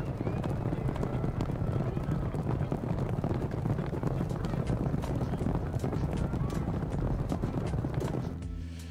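Racehorses gallop along the sand during the beach races at Sanlúcar de Barrameda, a dense, continuous drumming of hooves mixed with wind and crowd noise, with a voice talking over it.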